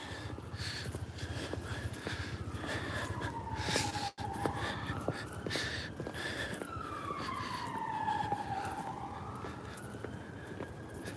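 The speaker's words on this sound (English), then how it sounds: "sure are a lot of police sirens in London." A wailing police siren rises and falls steadily through the whole stretch on a London street, sounding fairly close over continuous traffic noise.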